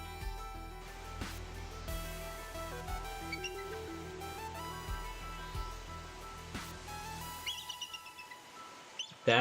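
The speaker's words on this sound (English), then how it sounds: "A bald eagle scream." A recorded bald eagle call plays, a series of high, thin chirping whistles and piping notes repeating over several seconds, fairly faint against a steady low hum.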